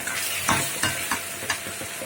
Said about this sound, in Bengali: এখন আলুটাও নেড়ে চেড়ে কষিয়ে নেব